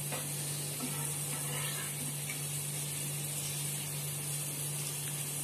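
Cashews frying in hot oil for a Hyderabadi beef dum biryani, a steady close sizzle and bubbling hiss over a constant low electrical hum, with no talk.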